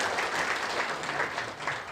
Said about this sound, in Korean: 앞으로 제22기 제주시협의회를 이끌어 나가실 김홍보 회장님께 다시 한번 응원의 큰 박수 부탁드리겠습니다